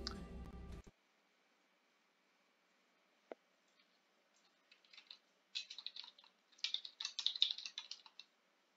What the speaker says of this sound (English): I'm typing too